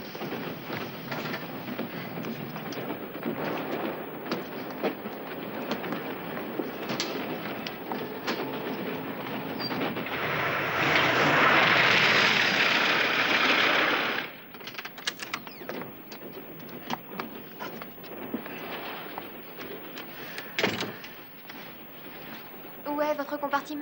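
Steady rumble and rattling of a train heard from inside a passenger carriage, continuous throughout with a louder, rushing passage midway, while people talk over it.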